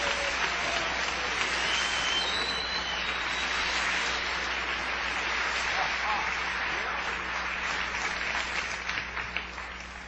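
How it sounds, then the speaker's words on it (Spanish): A congregation applauds steadily during a church discipleship service, a dense, continuous wash of clapping that stays loud for the whole stretch before easing slightly at the end. "Démosle un aplauso, Señor."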